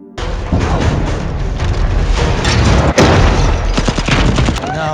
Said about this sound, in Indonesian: Dari atas, penjahat kedua mencoba menembak